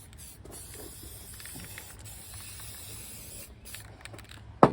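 Black aerosol paint is sprayed onto the legs of a model ladybug in faint, intermittent hissing bursts near the mic, ending in a sharp knock.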